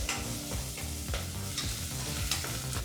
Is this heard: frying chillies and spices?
yes